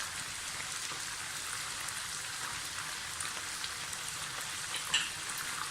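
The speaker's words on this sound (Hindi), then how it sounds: "अब इसमें लहसुन अदरक का पेस्ट डाल दें" Steady hiss and sizzle of chicken frying in a pan with garlic-ginger paste for Kashmiri chicken qorma, a constant close crackle that runs evenly throughout with one brief louder spatter near the end.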